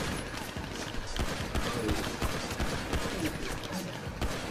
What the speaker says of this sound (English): I'm trying to shoot somebody with BBs